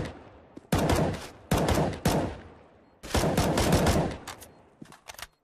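Counter-Strike gunfire during a Cobblestone match, several loud close bursts of automatic rifle fire, short volleys then a longer sustained spray, with gaps of near quiet between them.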